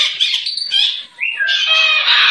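A pet parrot squawks and chirps almost continuously in loud, close, harsh calls, with a brief pause partway through before a long raucous cry.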